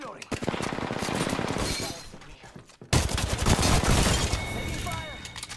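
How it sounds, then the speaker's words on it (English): Rapid machine-gun bursts and overlapping shots in a shooter game, close and loud, pausing briefly mid-way before another dense volley, with shouted voices over the firefight. "Taking fire!"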